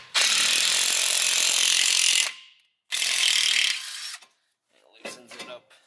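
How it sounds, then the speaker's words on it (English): A ratchet turns a bolt into the small screw holes of a wagon engine part to loosen it, giving two long, loud, close bursts of clicking followed by a few softer, scattered clicks. "there's these little screw holes that you can screw a bolt into"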